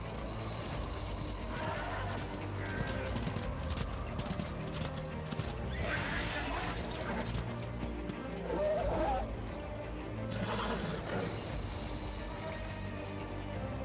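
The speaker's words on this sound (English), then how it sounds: "Despair is a fucking awesome horse" Clattering hooves and horse whinnies sound over loud, busy Darksiders 2 game audio with constant effects.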